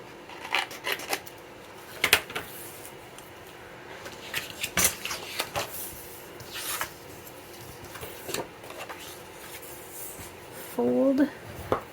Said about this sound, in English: I'm just going to cut off these little